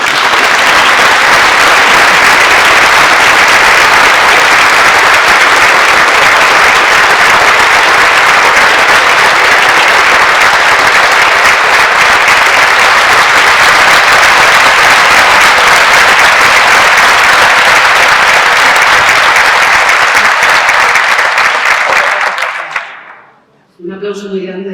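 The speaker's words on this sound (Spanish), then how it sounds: "Por favor, un fuerte aplauso." Loud, sustained audience applause at a public civic event in Albacete, with dense clapping filling the hall for over twenty seconds before it abruptly dies away and a voice briefly follows.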